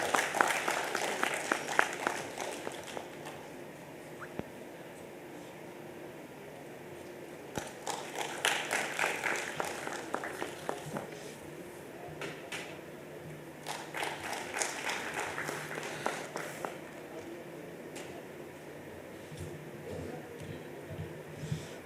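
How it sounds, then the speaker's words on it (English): Audience applause at the 62nd National Cost and Management Accountants Convention, a hall crowd clapping in several swelling waves over about twenty seconds, moderately distant, with faint murmur between bursts. "Can we have a huge round of applause, ladies and gentlemen?"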